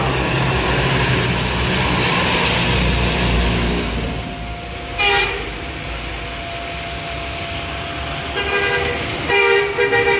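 A small bus passes at a bus stop, sounding its horn in short bright toots near the end, over steady traffic and engine rumble from surrounding vehicles.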